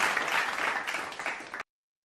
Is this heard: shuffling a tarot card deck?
no